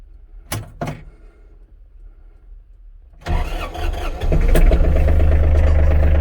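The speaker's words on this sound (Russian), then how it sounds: "Трактор заводится отлично." Two sharp clicks, then a quiet pause before an ISEKI GEAS31 Japanese mini tractor with cab cranks and starts, settling into a loud, steady diesel idle close by.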